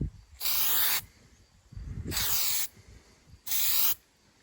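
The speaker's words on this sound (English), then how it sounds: "Rust-Oleum spray-on zinc-rich primer to coat and protect it." Three bursts of hissing aerosol spray from a can of Rust-Oleum zinc-rich primer, each about half a second long, separated by short pauses filled with faint rustling.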